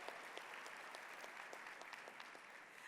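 A banquet audience at an awards evening applauds a quartet with sustained, even clapping across the hall, heard at a moderate distance and without any speech over it.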